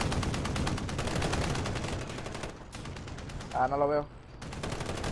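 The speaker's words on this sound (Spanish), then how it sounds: "Están disparando de otro lado, nos están disparando de arriba" Rapid automatic gunfire in Call of Duty: Modern Warfare, dense continuous bursts that break off briefly, then resume, with someone speaking over the shooting.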